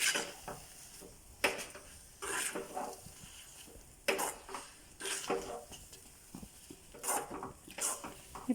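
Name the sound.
stirring kesari with cardamom powder and fried cashews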